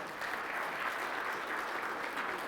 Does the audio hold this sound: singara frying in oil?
no